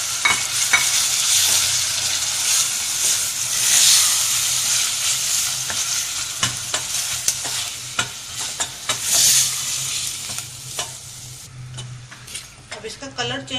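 Chicken pieces frying with softened onions in a pan, a loud crackling sizzle with frequent stirring clicks and scrapes, fading toward the end as a brief voice is heard.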